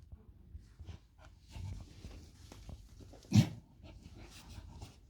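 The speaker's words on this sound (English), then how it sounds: "You can hear Jodie grunting as she's contracting and doing some pushes" A Springer Spaniel named Jodie grunting as she pushes while whelping: soft breathy sounds and quiet grunts, with one sharper, louder grunt midway, close and faint in a hushed room.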